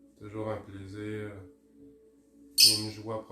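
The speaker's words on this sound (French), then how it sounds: "Je présente Pastel, notre petit inséparable." Harsh, harmonic bird squawks from a lovebird, two bursts separated by a pause, the second sharper and higher.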